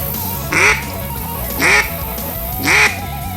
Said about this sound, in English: we're going to start off with just the one quack.